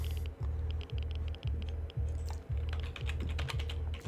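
Keys on a computer keyboard are pressed in an irregular run of light clicks while playing the game All Walls Must Fall, heard close over a low rhythmic throbbing hum in the background.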